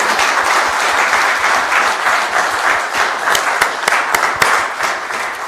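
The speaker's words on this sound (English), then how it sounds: "Let's give him a round of applause." An audience claps steadily in a sustained round of applause, with a few sharper individual claps standing out near the end.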